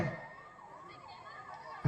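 An ambulance siren at a bull-taming event wails in a steady rising and falling tone, holding continuously at moderate loudness above a busy open-air background.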